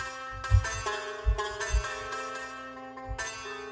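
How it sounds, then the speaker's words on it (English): Bright plucked strumstick sample notes ringing out in a slow, sparse melody with a low thump under some notes, close and fairly quiet. "I have a sample called Strumstick."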